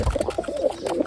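Two white pigeons sitting in a small birdhouse in a home setup coo in a soft, repeated throaty rhythm, close by and steady with no talking.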